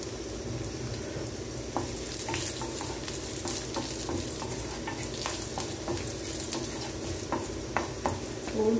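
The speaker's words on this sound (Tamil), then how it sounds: "பூண்டு வதங்கிட்டுங்க." Garlic with green chilies and half a dried red chili frying and sizzling in a pan, a steady close sizzle broken by frequent sharp clicks of a spoon stirring against the metal.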